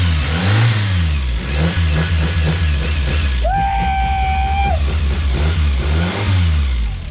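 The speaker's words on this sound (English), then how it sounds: "You want to hear it go vroom vroom?" A cheap Japanese muscle car engine with a blown turbo seal rises and falls through repeated revs over a rough idle, with a whistling whine joining in during one rev, all loud and close.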